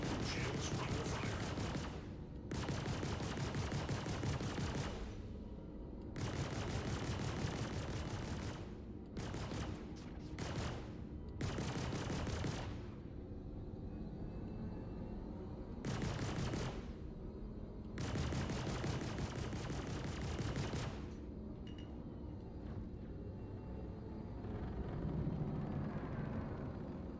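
Weapons fire in a space combat game against a renegade ship: repeated bursts of rapid blasts, several seconds each, separated by short pauses, loud and close over a steady low hum, with no voices.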